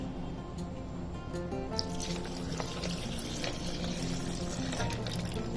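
Milk pouring into a jar over Oreo biscuits and ice cubes for a milkshake, a close steady liquid gush and splash with faint clinks, continuous and fairly loud, no voices.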